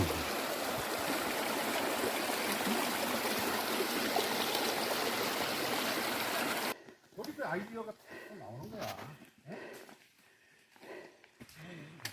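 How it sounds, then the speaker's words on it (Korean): Water rushes steadily in a mountain stream on Taebaeksan for several seconds, then cuts off, leaving a person talking with little background sound. "호랑으로 물이 졸졸 흐르고 있습니다"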